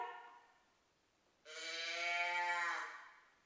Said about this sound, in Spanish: ¡La vaca!